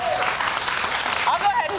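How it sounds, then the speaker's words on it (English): Steady applause from an audience, a broad wash of clapping throughout with a few faint voices rising near the end. "Give her a round of applause."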